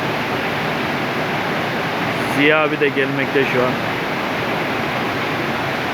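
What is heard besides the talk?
waterfall at Gül Pınar, Darende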